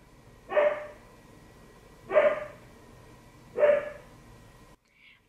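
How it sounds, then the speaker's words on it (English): Three evenly spaced barks from a pet dog indoors, each a short loud burst about a second and a half apart, followed by a brief higher yip at the end; no talking. "don't mind my dogs"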